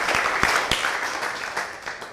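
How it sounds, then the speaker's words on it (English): An audience at an IoT showcase gives another round of applause, steady crowd clapping with a few sharp louder claps standing out near the start, holding at even volume throughout. "Another round of applause, I think."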